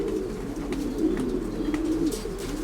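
A domestic pigeon, a strong show cock from a German champion breeder's loft, coos in low steady rumbling phrases through the whole stretch, close and continuous, with faint chirps from other birds behind.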